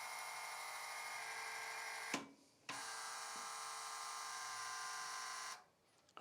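Electric valve actuator from the MESC004 on/off series, its motor steadily driving the valve toward full open, a continuous whining hum with a brief interruption partway through before it cuts off near the end.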